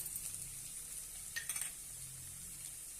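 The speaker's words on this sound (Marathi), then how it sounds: "परतून घेऊया त्यामध्ये थोडीशी हळद घालूया" Shepu (dill) greens with dal and a pinch of turmeric being sautéed in a pan give a faint, steady sizzle, with a brief cluster of stirring scrapes and light clinks midway.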